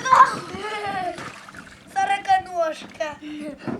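Water splashes in a small tub holding roughly ten buckets of well water while a child bathes, the sloshing mostly buried under steady chatter from a child and an adult.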